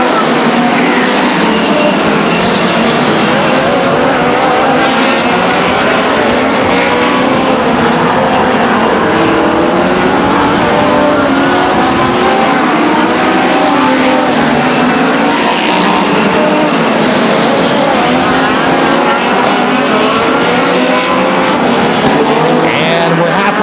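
Race cars roaring around the oval at Stockton 99 Speedway, a loud, continuous wash of engine noise with pitches rising and falling as the cars sweep past, with no talking.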